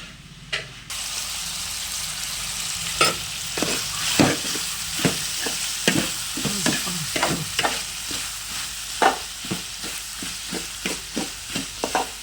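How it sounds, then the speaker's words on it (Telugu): Onions and green chillies fry in hot oil in a pan for a Rayalaseema uggani dish, the steady sizzle broken by a run of sharp, regular spatula scrapes and stirs, close and fairly loud, with no voices. "ఈ విధంగా కోసి పెట్టుకున్న ఎర్రగడ్డలు పచ్చిమిరకాయలు తిరగమాత వేసుకొని వేపుకోవాలి"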